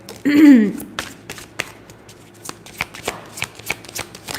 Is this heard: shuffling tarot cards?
yes